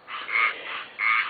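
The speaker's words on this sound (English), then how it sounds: "the frogs are singing lovely" Frogs croak near a greenhouse in a few loud, rasping trilled calls in quick succession. The calls come close and clear, with no voices over them.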